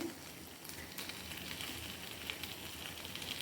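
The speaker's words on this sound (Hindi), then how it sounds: "अब मैं चिकन के पीसेस को फ्लिप करूँगी" Chicken malai boti pieces sizzling steadily in a hot pan on a low flame after being flipped, a continuous close crackling hiss with no talking.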